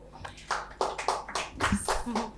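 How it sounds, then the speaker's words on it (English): Audience applause for guests at a panel on design and entrepreneurship, a scattered burst of clapping mixed with a speaking voice. "A round of applause for our great guests today."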